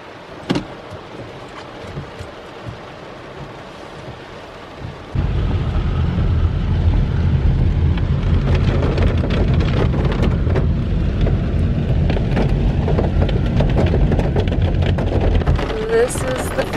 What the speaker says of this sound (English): I wish it wasn't raining like this.